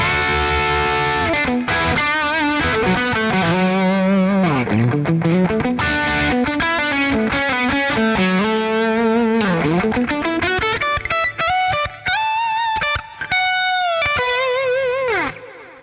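A loud, overdriven Les Paul with humbuckers plays through a Marshall Plexi tone on a Quad Cortex, a fast run of bends and sliding notes, crunchy, ending on sustained ringing tones, with no voices.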